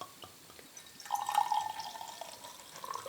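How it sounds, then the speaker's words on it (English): White stout with oat malt, a barrel-aged chocolate bourbon style, poured into a glass: a faint, steady liquid stream runs for about two seconds, with a few soft drips before and after in a quiet room. "So let's pour this one out in some glass"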